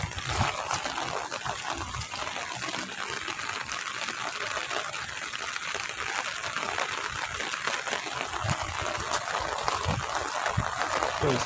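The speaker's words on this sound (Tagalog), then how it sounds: "Malakas ng ulan." Heavy rain pours in a steady, dense hiss that continues evenly throughout, with faint voices in the background.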